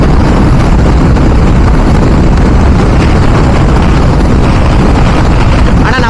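A motorbike rides fast on an open road, heavy wind roar and broadband engine rumble filling everything, loud and constant from start to finish.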